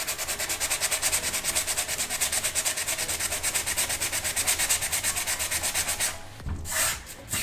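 Steady rhythmic scraping of a sanding block rubbed back and forth on chalk-painted wood furniture, close and loud, with quick even strokes and a brief change near the end.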